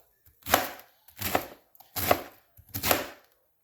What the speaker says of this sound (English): I'm not going to need the whole cabbage here. And I'll take this right here. I'm going to cut this up nice and fine.